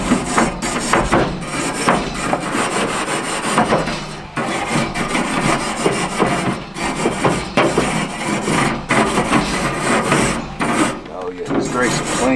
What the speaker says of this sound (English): got my wire brush